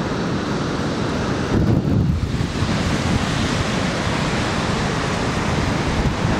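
Sea waves on the shore near the Seven Sisters cliffs, a steady broad wash of surf mixed with wind buffeting the microphone, one slightly louder surge early on, no voices.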